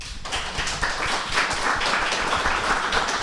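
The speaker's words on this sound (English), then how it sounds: "I just realized I was applauding like Celine Dion" An audience claps in steady, dense applause after a talk on ending the war on drugs, a sustained crowd of hands that fills the room throughout.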